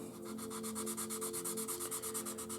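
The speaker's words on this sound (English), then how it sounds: "within a couple minutes you could actually start sanding the seam" Sanding the glued seam of a 1/48 Kinetic F/A-18D Hornet plastic model kit: fast, even back-and-forth rubbing strokes, close and clear, over a faint steady hum.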